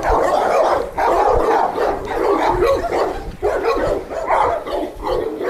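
Several pitbulls and American bullies bark in a spacious kennel that is being cleaned, a dense, continuous chorus of overlapping barks and yips, fairly loud and close, with no clear talk over it.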